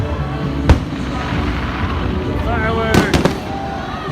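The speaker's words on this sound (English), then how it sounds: "Astro Orbiter, and the fireworks are on." Magic Kingdom fireworks bursting outdoors while riding Astro Orbiter, with a few sharp, loud bangs over a constant hum of ride machinery and crowd noise, and a short whistling streak between bursts.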